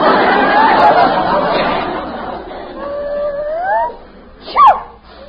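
Dog sound effect in an old-time radio comedy, a few whimpering, howl-like yelps near the end, the last one sharp and loud, following busy background voices.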